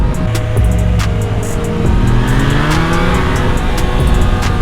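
A Triumph Tiger Sport motorcycle accelerates hard to overtake on a road in Portugal, its engine note rising loud and close over steady wind rush, with the revs climbing through the pass.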